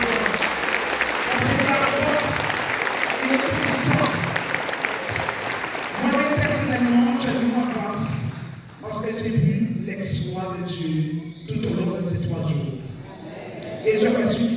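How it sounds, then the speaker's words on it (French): A congregation at a Sunday church teaching applauds, a steady, moderately loud wash of clapping running for several seconds while a preacher's voice carries over and through it. "Et applaudissez-vous."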